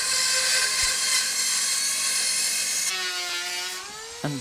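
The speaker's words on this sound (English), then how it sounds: "And planed, starting with the power plane and finishing as always with a hand plane." Electric power planer planing a tapered wooden spar, a loud high-pitched whining motor that drones steadily and then winds down in pitch as the cut ends.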